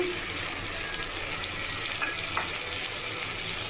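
Ginger-garlic paste and tomato paste fry in oil for rui fish curry, a steady close sizzle with a couple of brief clinks of a utensil against the pan.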